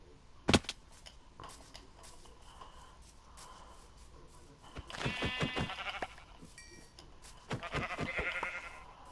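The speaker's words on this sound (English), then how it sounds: "Sheep." Sheep bleating in the video game Minecraft: a sharp click first, then two wavering bleats a few seconds apart over a quiet background.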